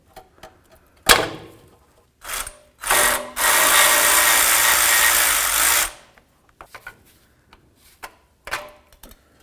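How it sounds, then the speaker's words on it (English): Power tool removing a nut from the starter wiring cover on a 2007-or-later Toyota Tundra 4WD; short bursts and one sustained loud whir of a few seconds, with clicks and clanks of tools around it. "and then we'll remove the nut that's behind it"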